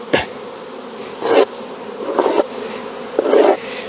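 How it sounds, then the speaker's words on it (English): Honey bees leave a nucleus hive during supering, buzzing close by in several short, loud swells that rise and fade every second or so over a quieter background hum. "Okay, bees, off you go."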